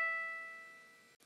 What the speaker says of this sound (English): This time, our E sits on the top space of the treble clef staff. It sounds like this.